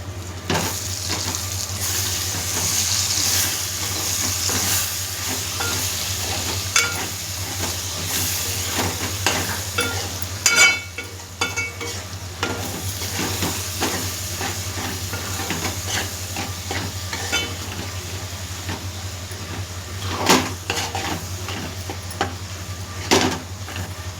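Egg bhurji (guddu porutu) being stirred in a hot pan, with a constant close sizzle and hiss broken by occasional sharp scrapes and knocks of the spatula.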